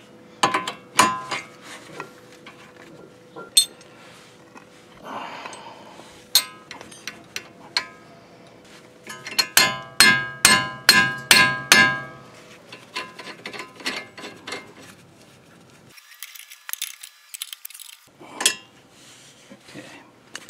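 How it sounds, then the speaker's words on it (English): Sharp metallic hammer blows on the lower control arm of a 2012 Ford Fusion ring out in scattered bursts, including a quick run of about six strikes, with clanking of tools between them. "we're going to try pressure while we hammer it on the side"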